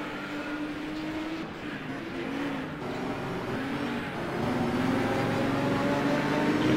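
Touring cars at Teretonga, a Works Holden dueling with Bruno Chacon's number 3 BMW 635, roar steadily with engine drone that swells louder toward the end as they close in.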